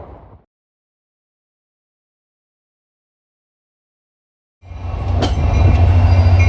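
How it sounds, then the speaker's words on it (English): A New Jersey Transit Erie Lackawanna heritage locomotive departs on a train for Newbridge, a loud rumbling roar swelling in after a long silence with a sharp metallic click, growing steadily louder and close by. "The Erie Lackawanna is going to be departing on a train for Newbridge at 2:58"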